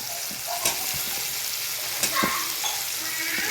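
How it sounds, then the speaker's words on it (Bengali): Frying ingredients for an egg dish sizzle steadily in a pan while a spoon stirs, giving a few sharp scrapes and clinks over the continuous crackle, no talking. "লাল না হবে নাড়তেই থাকবো"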